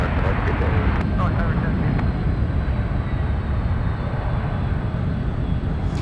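United Airlines Airbus A320 taking off from San Francisco, a loud sustained jet engine roar close by, broad and steady throughout, with faint talk in the background.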